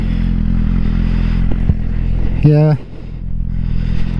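A motorcycle engine runs steadily at idle during winter preparation, a close, constant low hum with a couple of brief clicks and a short tonal squeal partway through. A voice speaks briefly.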